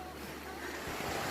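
Rain pours steadily on a flimsy shack deep in the forest, a constant broadband wash with low rumbling that grows slightly louder toward the end, with no voices.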